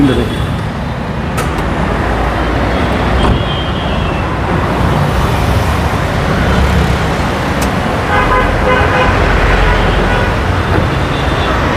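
A Toyota X Corolla engine runs steadily under a dense wash of roadway traffic noise, with a few short horn toots and people talking nearby.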